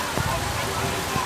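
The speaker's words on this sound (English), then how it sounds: "Rain coming down pretty steady." Steady rain falls on an outdoor football game between the Eau Claire Cowboys and River City Rough Riders, a dense hiss filling the brief moment with a couple of soft thuds and faint crowd or voice murmur beneath.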